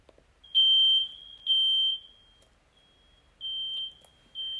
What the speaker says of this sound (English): what if I put like a smoke detector sound on?